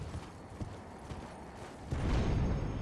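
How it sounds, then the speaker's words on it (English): Horse in the Elden Ring video game summoned by the player, with soft in-game hoof clip-clops and thumps that build into a louder, busier rush of movement near the end, with no talk. "I will summon my horse."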